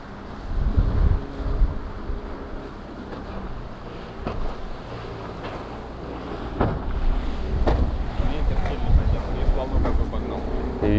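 Steady gusting wind buffets the microphone outdoors near water while fishing for carp near a grass fire in Astrakhan, with a low rumble and occasional knocks underneath.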